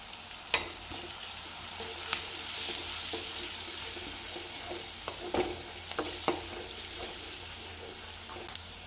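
Onions fry with turmeric in a pan, giving a soft, steady sizzle, while a spoon stirs and scrapes now and then and a few sharp clinks sound against the pan. No one speaks.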